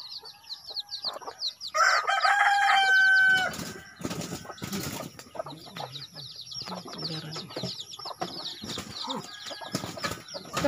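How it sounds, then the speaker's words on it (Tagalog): A rooster crows loudly nearby at a rural hut in the fields, its call rising over a din of other birds chirping, clucking fowl and brief wing flaps, with a voice murmuring faintly in the background. "Isok yung manok"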